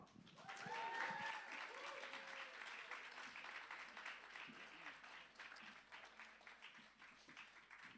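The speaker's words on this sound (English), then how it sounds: "we need a little extra stadium-sized love in your applause" Comedy club audience at The Bedford applauds as the first act takes the stage, a full, steady burst of clapping with a few cheers and a brief voice over the start.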